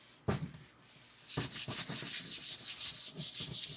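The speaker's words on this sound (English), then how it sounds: "This is just a block sander with a piece of 220 grit sandpaper on it." A block sander fitted with 220 grit sandpaper rubs across a polyurethane finish in light, steady back-and-forth strokes, a close, rhythmic scratchy hiss that follows a couple of isolated scrapes at the start.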